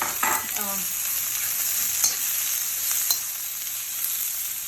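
Bite-size zucchini with green, yellow and orange pepper pieces stir-frying in a hot pan, an even bright sizzle with a few scraping stirs near the start and soft clicks after, no talking.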